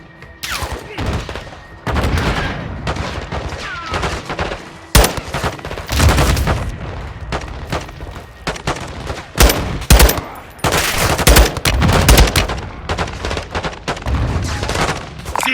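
Machine gun fire in the Call of Duty Modern Warfare 2 (2022) campaign, repeated loud automatic bursts and scattered heavy shots over a rumbling battle din, with occasional talk in the background.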